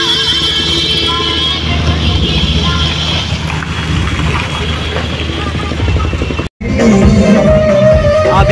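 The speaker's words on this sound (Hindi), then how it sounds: "चेक करिए, एकदम भौकाल में गाड़ी आ रही है।" A vehicle arrives amid a Hanuman Jayanti rally procession, its loud, continuous engine rumble blending with dense crowd and street noise, broken by a brief dropout near the end.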